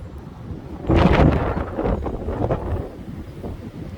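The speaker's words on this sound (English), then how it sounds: "Man, that howling wind noise is so freaking loud." Strong gusty wind howls and roars through tree branches during high winds, rising into a loud gust after a quiet start and then surging unevenly; no voices.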